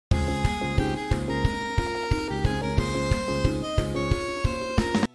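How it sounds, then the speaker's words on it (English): Saxophone lead melody from a JRPG battle theme, playing sustained notes over a busy, steadily pulsing backing of harp and build-up instruments, loud and dense throughout. "so I came up with this on the saxophone."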